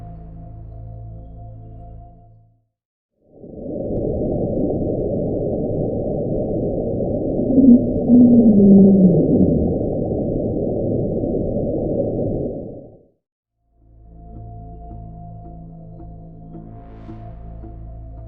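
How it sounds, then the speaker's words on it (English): Julia sound, a low-frequency underwater rumble recorded by NOAA: a long, steady droning roar that starts abruptly, holds for about ten seconds with a brief wavering rise and fall in the middle, then cuts off, with quieter muffled rumbling before and after. "The Julius sound is a long-duration, low-frequency rumble that has no known source"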